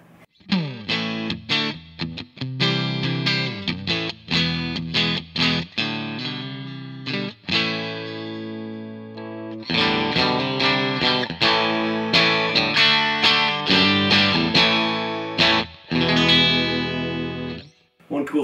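Black Warmoth Telecaster electric guitar with Fishman pickups set to vintage mode, played as a run of strummed chords and picked single notes through effects with light distortion and chorus, loud and up close, with brief pauses between phrases.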